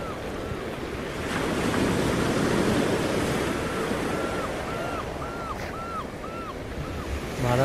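Ocean surf rolls onto a beach at dusk, a broad continuous rush of breaking waves with wind buffeting the microphone, while a chirping bird calls in a repeated series partway through.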